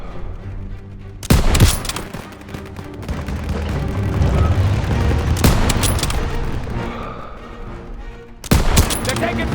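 Heavy gunfire in a Call of Duty WWII street battle: loud bursts of automatic fire and booming shots in several clusters, with a rumbling din between them and shouted voices.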